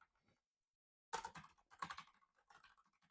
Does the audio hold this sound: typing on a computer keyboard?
yes